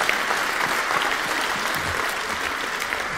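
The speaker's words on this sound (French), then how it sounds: "je vous demande de les applaudir" An audience at a citizen dialogue meeting in Haute-Garonne applauds the speakers with dense, steady clapping that holds at an even level throughout, with no talking over it.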